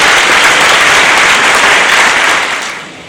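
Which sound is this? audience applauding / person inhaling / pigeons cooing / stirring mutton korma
audience applauding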